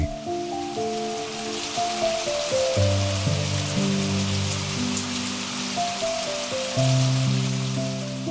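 Steady monsoon rain falling over the Bangladeshi countryside, a continuous hiss of drops on surfaces with soft music-like tonal layers above it, no voices.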